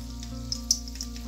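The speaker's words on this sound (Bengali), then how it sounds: "পিঠাগুলো দেওয়ার পর এক সাইড করে ভালোভাবে ভেজে নেব।" Sylheti puli pitha made from biron rice fry in a pan with a steady soft sizzle and a few faint pops, close and quiet with no voices.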